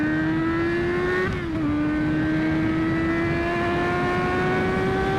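A loud motorcycle engine running on open headers and downpipe, exhaust rear removed, holds a steady, raspy drone with a brief dip in pitch before settling back into a continuous roar.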